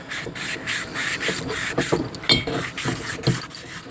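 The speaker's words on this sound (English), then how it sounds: "got that honed out, hand honed out in both directions" An engine cylinder is hand honed with 320 grit sandpaper, producing a rhythmic series of close scratchy rubbing strokes, roughly regular back-and-forth passes, with no talking.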